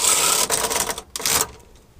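A knitting machine carriage slides across one row of stitches, making a rough, raspy swish in two quick passes that trails off, close by and with no talking.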